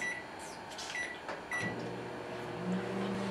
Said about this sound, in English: while that's microwaving